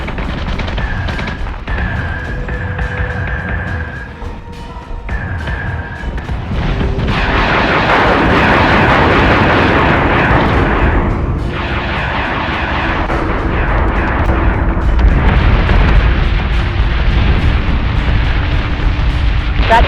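Heavy, continuous rumbling blasts and booming impacts pound a warship taking sustained weapons fire in the Battlestar Galactica Deadlock space combat game, loud and dense with steady engine-like drones and tones underneath, no talk.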